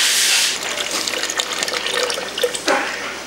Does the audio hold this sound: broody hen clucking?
no